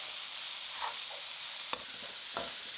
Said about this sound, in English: we're going to stir fry that together for about 2 minutes